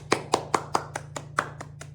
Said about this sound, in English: So Simon Says, clap your hands.